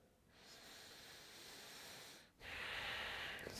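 A slow, deep breath during a gentle yoga stretch: a soft inhale followed by a brief pause and a louder, airy exhale, close and steady with no talk.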